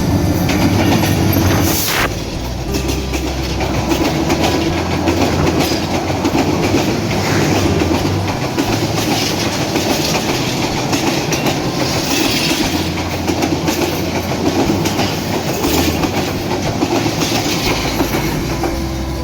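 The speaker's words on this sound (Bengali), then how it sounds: "রংপুর এক্সপ্রেস রানীনগর রেল স্টেশনের 1 নম্বর লাইন দিয়ে থ্রু পাস করে চলে যাচ্ছে" An express train passes straight through a station on a track without stopping, rumbling steadily up close, wheels clattering over rail joints with occasional metallic squeals, loud and continuous throughout without any speech.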